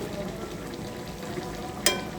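Fish fries in a pan as it is stirred, making a soft, continuous sizzle with a single sharp click near the end.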